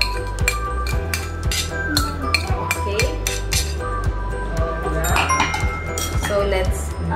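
A spoon or utensil clinking repeatedly against a pot or bowl as cheese is stirred into creamy carbonara sauce, steady rhythmic metallic taps up close.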